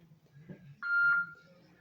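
A single telephone hold-line beep sounds on a call, a clear steady tone lasting about half a second, preceded by a faint murmur of voice.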